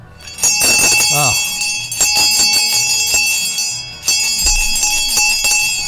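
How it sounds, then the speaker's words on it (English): A town crier in Alton rings a genuine brass hand bell, loud and close, with rapid repeated clangs in two long bursts and a sharp break between them. "So here, it's a genuine bell. This is no electronic stuff."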